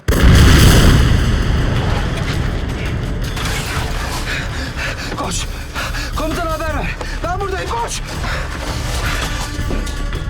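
A loud, deep boom bursts out at the start, then rumbling debris and clatter continue as voices shout over the noise.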